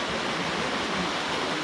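Water pouring at a hidden waterfall in Kapartheeswara Kona, a loud unbroken rushing roar close by, with no voices.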